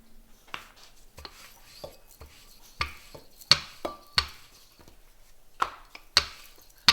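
Floured roti paratha dough is rolled out with a rolling pin, making a series of sharp wooden knocks and soft thuds at an irregular rhythm, close and clear over a quiet background.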